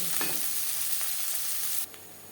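Onions frying in oil for a chicken and potato curry, a dense close sizzle with a couple of spatula scrapes, dropping suddenly quieter near the end as the heat is lowered.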